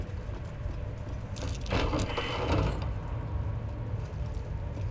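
A door mechanism opens in the video game Baldur's Gate 3, a brief grinding, rattling burst that stands out mid-way over a low steady ambient drone, with no speech.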